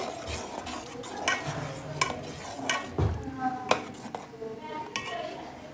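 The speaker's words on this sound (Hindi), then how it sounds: "अब इनको जल्दी जल्दी हमने चम्मच से मिक्स करना है" Two eggs whisked quickly with a metal spoon in a bowl for hot and sour chicken soup, a steady stirring scrape broken by light clinks of spoon on dish, with faint talk in the background.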